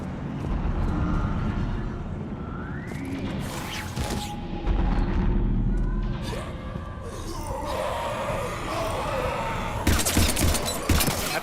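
Gunfire in the video game Mass Effect 3 during a fight against husks, with bursts of shots and mechanical clatter layered over a dense, constant battle rumble, loudest near the end.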